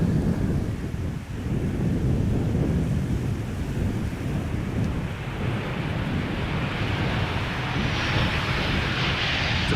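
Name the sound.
Transavia airliner landing on Polderbaan runway, Schiphol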